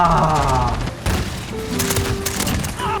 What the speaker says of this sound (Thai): แล้วปืนเนี่ยมันยิงทะลุได้อยู่นะ